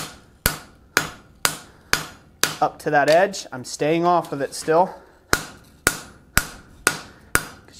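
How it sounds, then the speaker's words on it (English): Hand hammer strikes ring on the edge of a fold-formed metal bowl being forged, sharp evenly spaced blows about twice a second, pausing while someone talks, then resuming the steady rhythm. "I'm going to hammer with my hand hammer here"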